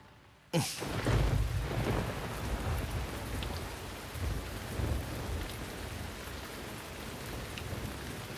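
Rain suddenly begins after a quiet moment, a dense steady hiss of drops on surfaces with a low rumble beneath, continuing evenly at moderate loudness.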